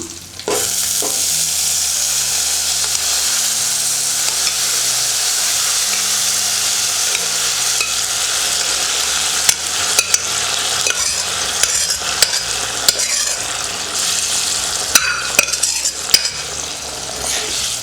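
A loud, continuous sizzle rises from a pan of potato and chana dal mixture for appalam kootu, with scattered scrapes and clinks as it is stirred.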